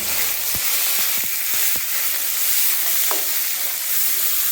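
Rice and lentils with cumin stirred in a hot pan for khichuri, a steady loud sizzle broken by sharp scraping clicks of the spoon against the pot, about a dozen strokes in quick uneven succession.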